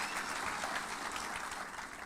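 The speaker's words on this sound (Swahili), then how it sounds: "Ipigieni makofi kwa watu wa soccer." A crowd at a public gathering in Kenya claps for soccer players, producing dense, steady applause that fills the whole two seconds without a pause.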